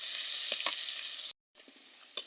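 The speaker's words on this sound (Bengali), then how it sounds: "শুকনো মরিচ আর হচ্ছে রসুন কুচি আর পেঁয়াজ কুচি দেব। এটাকে ভেজে তারপর শাকগুলো দিয়ে দেব।" Dried chili, chopped garlic and onion fry in hot oil with a steady hiss, a few scraping stirs, and a brief break in the sound before the sizzle resumes.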